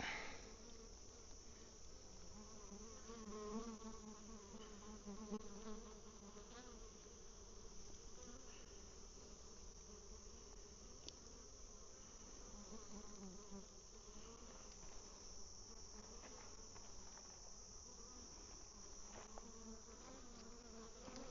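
Honey bees buzz around a hive during an inspection, a steady, dense drone that holds at even loudness for the whole stretch, with no talk.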